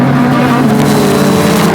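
Pure stock race cars roar around Flamboro Speedway in a side-by-side battle, a loud, steady engine drone with no breaks and no voices.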